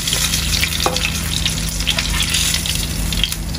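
Fish frying in a pan gives a steady, loud, dense sizzle that runs the whole way through without letup, with a faint low hum underneath and no voices.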